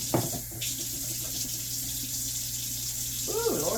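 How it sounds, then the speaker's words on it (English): Water streams steadily from a kitchen tap into a sink while a knife is rinsed, a continuous close splashing hiss with a brief clatter near the start and a voice entering at the very end. "Let me wash this knife."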